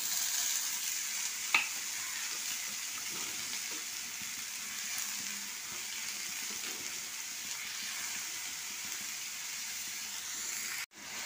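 Potatoes, onion and snake gourd fry in a pan for a street-style dish, giving a steady close sizzle with a couple of faint clinks and a brief scrape, no voices.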